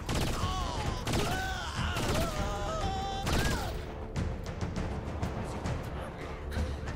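Pulse rifle fire in the Saints Row IV video game: bursts of electronic-sounding shots with sweeping, warbling tones, loud and dense at first, then thinning into scattered sharp cracks and clinks.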